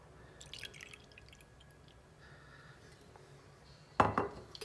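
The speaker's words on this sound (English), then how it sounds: "Then you're going to take your Tanqueray gin, and I'm gonna put in 2 ounces" Tanqueray gin poured into a cocktail shaker while mixing a strawberry basil gin gimlet: faint trickling and small glassy clinks, then a sudden louder clatter of liquid and metal near the end, with no talking.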